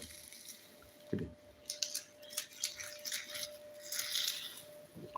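Crisp cracking and crunching as papadum is snapped into pieces, several short crackles over a few seconds beneath a steady faint hum.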